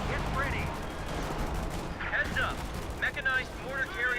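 Artillery bombardment and gunfire from a Company of Heroes 2 2v2 match, with a Priest and mortars firing: a dense, continuous battle rumble with scattered crackling shots, heard under ongoing commentary.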